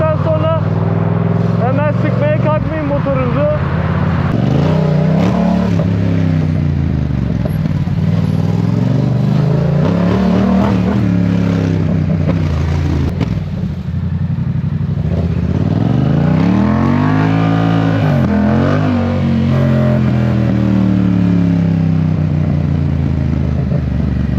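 Motorcycle engine idling and revving after a fresh oil change, a loud continuous drone with rising and falling pitch sweeps as the throttle is blipped, with someone talking over it.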